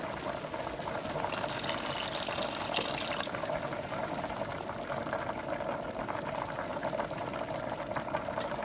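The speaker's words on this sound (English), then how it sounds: "add just a little bit of chicken stock to this" Chicken stock pours into a hot pan with a steady, soft liquid rush over a low sizzle, continuous and close for several seconds.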